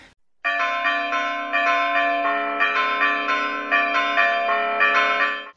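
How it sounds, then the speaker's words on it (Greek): Church bells ring in a steady, sustained peal with rhythmic repeated strikes and long ringing tones, clear and close, with no voices present. "Οι καμπάνες χτυπούν."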